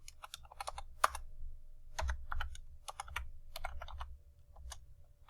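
Fast bursts of typing on a computer keyboard during an AutoCAD session, with clustered key taps broken by short pauses, close and fairly quiet with no voice.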